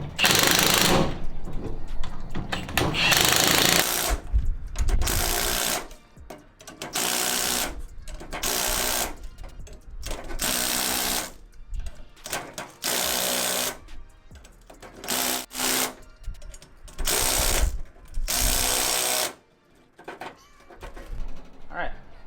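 An impact or power tool tightens perch collar nuts on a 2021 Ford Bronco leveling kit install, loud repeated buzzing bursts of a few seconds each separated by short pauses, with some talk in between.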